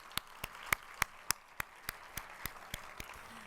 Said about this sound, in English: Let's have a round of applause for their contribution.